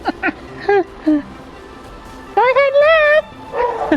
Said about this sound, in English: My dogs are barking at something that's outside.